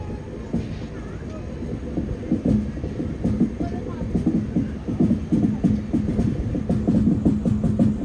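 A Jhelum Express train running between Jammu Tawi and Pune, heard from inside a sleeper class coach: a steady low rumble with rhythmic clickety-clack of wheels over rail joints growing more pronounced, with faint voices in the background.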